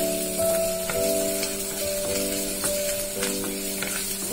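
Cumin, green chilies and ginger sauté in hot oil, a soft continuous sizzle heard close up beneath a melodic backing tune.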